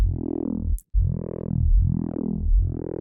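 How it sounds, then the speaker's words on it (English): A crispy, gnarly FM synth patch built in Phase Plant, run through a bandpass filter and distortion, plays a buzzy, sustained tone with shifting harmonics and a brief dropout, loud and alone. "gnarly FM sound that is kind of crispy sounding, then a bandpass filter."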